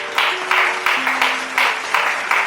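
A church congregation at a Sunday service applauding for Jesus, with loud, rhythmic clapping that swells in several steady waves over a couple of seconds and no speech on top.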